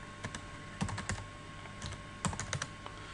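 Keys clatter in quick bursts as a short command is typed on a computer keyboard, the taps close and crisp with brief pauses between clusters, no voices present.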